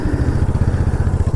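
A motorcycle ridden off-road putters close by in a low, rapid, rhythmic chug, steady and uneven like a slow ride over rough ground, with no talk.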